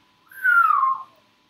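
A single short whistle, clear and close, gliding downward in pitch over about half a second against near silence.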